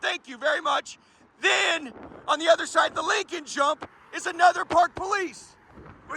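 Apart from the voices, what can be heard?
None of the usual background noises is heard.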